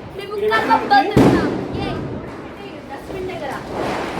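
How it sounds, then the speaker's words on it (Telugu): A Diwali firecracker goes off with one sharp, loud bang partway through, surrounded by people talking and chattering nearby. "ఇప్పుడు వెళ్ళి నిజంగా క్రాకర్స్"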